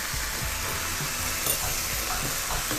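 Fish sauce (patis) sizzles in a hot pan while cooking Kapampangan-style batchoy: a steady, close frying hiss with soft scattered crackles and a few low clunks of the pan, no talking.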